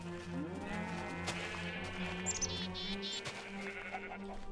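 Sheep bleating in the video game Minecraft, with sustained layered animal calls over a steady game background and a few soft chimes, with no talking.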